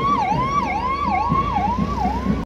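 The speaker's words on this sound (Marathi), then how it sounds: "सामान्य रुग्णालयाची रुग्णवाहिका काम करते" A general hospital ambulance's siren wails steadily up and down in a regular cycle, loud and close, over traffic rumble, then cuts off abruptly.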